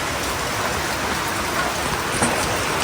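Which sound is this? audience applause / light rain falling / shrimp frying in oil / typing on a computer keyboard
light rain falling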